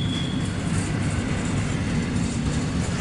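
A CSX freight train passing close by on the track, a loud, continuous rumbling roar of wagons rolling past with no gaps.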